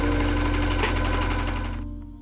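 A sewing machine stitches around a fabric pocket piece for homemade baggy sweatpants, running steadily with a fast, even mechanical chatter close by, then stopping abruptly near the end.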